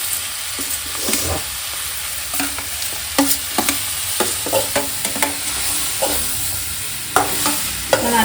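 Boiled potatoes fry in a pan while being stirred, a continuous sizzle broken by repeated scraping and clacking strokes of a spoon at irregular intervals, close and fairly loud.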